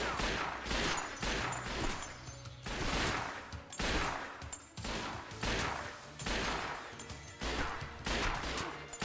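A gun fires in the 2002 Xbox game 007: Nightfire in loud, close bursts of rapid shots. Several bursts come in a steady rhythm, separated by short pauses.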